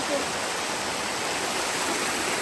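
Glacier meltwater stream rushing across a mountain trail on the Hemkunt Sahib trek, a steady close broadband wash of flowing water throughout with no talk.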